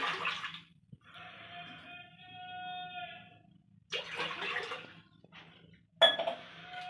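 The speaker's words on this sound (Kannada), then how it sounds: "ಇವಾಗ ಕಾಲು ಲೀಟ್ರ್ ಗ್ಲಾಸಲ್ಲಿ ಒಂದು ಮೂರು ಗ್ಲಾಸಸ್ ನೀರು ಹಾಕತ್ತೀನಿ" Water poured from a quarter-litre glass into a pressure cooker set up to boil fresh toor beans, tomato and greens; three separate splashing pours, each followed by a faint metallic ringing.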